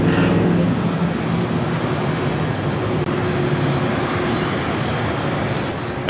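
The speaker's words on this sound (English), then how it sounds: "We got that United 777-200 heading to Honolulu, now rolling down to 5 right here on the south side." United Boeing 777-200 airliner rolling down runway 25 Right at LAX, a steady broadband jet engine roar that holds at a constant loud level throughout, with no talk over it.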